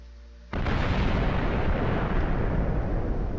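Thermobaric bomb going off in Minecraft with the ICBM mod: a sudden loud blast cuts in after a brief quiet hum, then a dense, rumbling roar sustains without fading.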